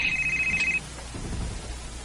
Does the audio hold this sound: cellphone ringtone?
yes